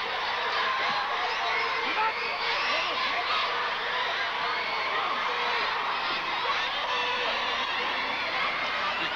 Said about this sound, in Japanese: 場内の歓声ひときわ高くなっております